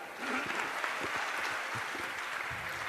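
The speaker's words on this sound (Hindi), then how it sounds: "ताली बजाइए" An audience claps in response to a question at a talk on the Indian constitution, a steady, moderately quiet patter of many hands lasting throughout.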